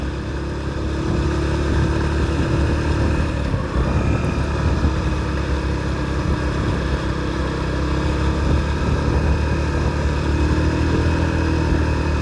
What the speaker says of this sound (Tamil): நம்ம வண்டி திணறுது, மேலே ஏற மாட்டேங்குது.